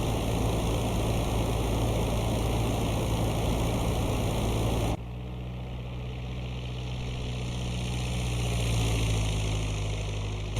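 A WWII propeller plane drones steadily in the IL-2 Great Battles flight game, a loud continuous engine roar that shifts tone midway, with no voices.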